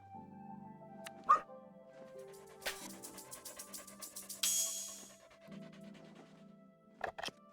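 Dog sounds from the video game Thirsty Suitors: a short bark around the middle of the clip, then a run of quick yips or pants and a brighter burst, all over game music and effects with no talking.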